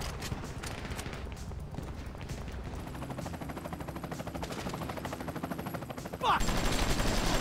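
AK rifle gunfire in Grand Theft Auto V, rapid automatic bursts repeating in a fast rhythm for several seconds, fairly close, ending in a louder sharp shot.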